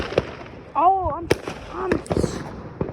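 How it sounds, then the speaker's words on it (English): Outdoor Fourth of July fireworks go off in several sharp, scattered bangs, near and far, while a person talks excitedly over them. "yo, they're everywhere. They're all the way over there."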